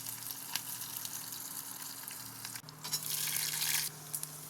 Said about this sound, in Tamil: பச்சை மிளகாய் நல்லா எண்ணெயில் பொரிஞ்சு எடுத்து இப்போ பூண்டும் இஞ்சியும் போட்டுக்கலாம்